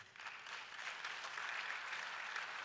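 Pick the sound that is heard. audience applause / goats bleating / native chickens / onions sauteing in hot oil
audience applause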